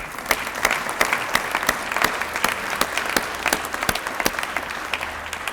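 Applause from a modest group, individual claps distinct and sharp, continuing at a lively, irregular pace throughout.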